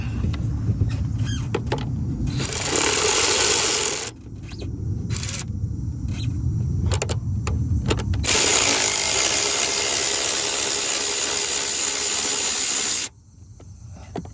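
Ratchet with a 10mm socket on an extension working a bolt loose on a Honda Civic during an AC idler pulley replacement, rapid clicking bursts broken by short pauses, with some metallic handling between them.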